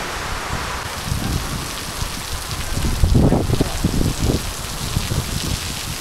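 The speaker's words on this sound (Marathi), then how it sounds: "हे बघ काय कसला पाऊस आलाय बघ." Heavy monsoon rain during a sudden Maharashtra thunderstorm pours steadily as a dense, close wash of noise, with low gusty rumbles swelling around the middle and no voices.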